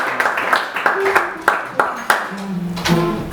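Church congregation clapping in a steady rhythmic beat to acclaim the Lord, sharp evenly spaced claps with singing or talk running underneath.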